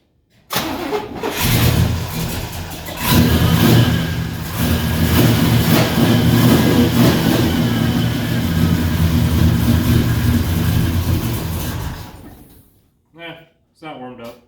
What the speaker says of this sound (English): Think it will cold start? If she'll turn over.